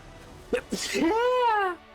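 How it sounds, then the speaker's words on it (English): A man sneezes while playing a card game on a stream: two short sharp intakes followed by a drawn-out, voiced, wailing sneeze, loud and close to the microphone. "I'm gonna sneeze."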